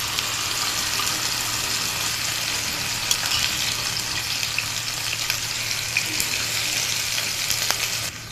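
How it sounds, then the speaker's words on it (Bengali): Dried fish paste fries in a small amount of oil, giving a steady, close hiss and fine crackle that holds evenly throughout, with faint stirring clicks and no speech. "এখন এই পেস্টটাকে আমি একটু তেলের মধ্যে ভুনা করে নেব।"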